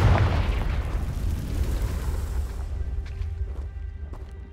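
A Confringo fire-spell blast in Hogwarts Legacy lands as a deep, heavy boom that rolls out and decays over a few seconds, leaving a low rumble with faint crackles.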